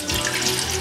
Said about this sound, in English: So we're going to put distilled water in here.